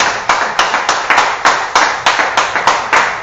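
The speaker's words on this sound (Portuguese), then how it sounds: "Dá uma salva de palmas para o Senhor Jesus." A church congregation claps in unison during a deliverance worship service: steady, loud, rhythmic clapping of many hands, about three claps per second, with no voices over it.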